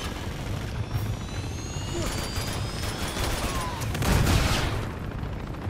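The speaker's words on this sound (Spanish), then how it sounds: "voy a esperar a la siguiente ráfaga del helicóptero" In the video game Uncharted 2, a helicopter fires on the player, giving a continuous rotor and engine roar mixed with rattling bursts of gunfire that swell into a louder volley near the end, set against dense combat noise.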